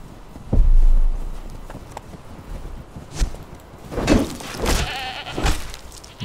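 Small goats bleating in the game Conan Exiles, with a few short, scattered cries over a low rumble and soft thuds that sound like hooves or footsteps in a snowy area.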